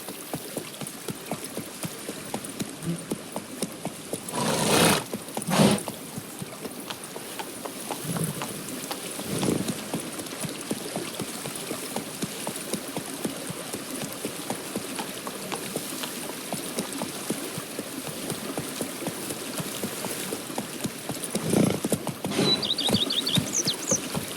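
A horse gallops in The Witcher 3 video game, its hoofbeats a soft, rapid patter under a steady ambient wash, with a few louder thuds and splashes scattered along the way.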